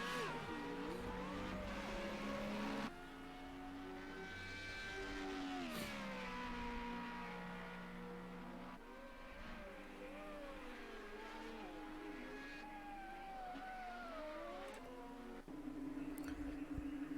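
A Formula Renault 3.5 race car screams around Monza in Project CARS 2, its engine note climbing and dropping through gear changes and braking, with other cars audible nearby and no talking.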